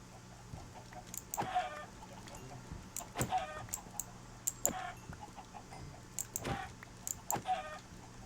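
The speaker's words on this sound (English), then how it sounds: "Might actually be more chickens than I can be bothered to kill" Chickens in a Minecraft multiplayer auto farm cluck. Several short, scattered clucks overlap at moderate volume over a quiet background hum.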